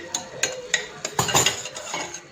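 A spoon scrapes and clinks against a pan while smashed tomato with turmeric powder is sautéed for rice dal khichdi, giving a few separate loud metallic strokes in an uneven rhythm, close and without talk.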